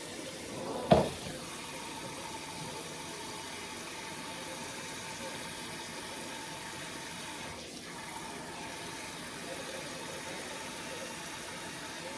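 Tap water runs in a steady, continuous stream into a kitchen sink while steak for pepper steak is rinsed, with a brief knock near the start and no talk.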